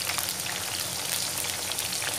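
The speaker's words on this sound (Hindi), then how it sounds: "तो आप समझिए ये कौन सी सब्ज़ी हम फ्राई कर रहे हैं" Vegetables frying in hot oil, a steady bright crackling sizzle like light rain, close and even throughout, with no talking.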